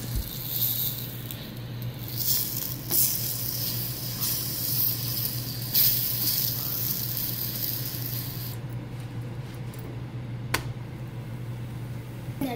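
Parotta cooking with butter on a hot pan, with a steady soft hiss and sizzle over a low hum that quiets toward the end, no voices.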